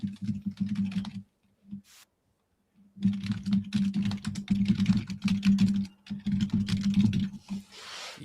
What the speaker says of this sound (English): Easy on the keyboard.